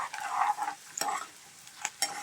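Peanuts and chana dal roasting in oil in a pan for tamarind pulihora, heard as a close sizzle with scraping stirs and a few sharp utensil taps against the pan.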